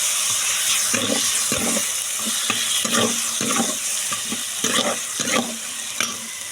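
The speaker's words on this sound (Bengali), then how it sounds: "মশলাটাকে কষিয়ে নিচ্ছি" Spices stir-fried in a pan in a village kitchen, a continuous close sizzle punctuated by irregular scraping stirs and soft knocks, with no one speaking.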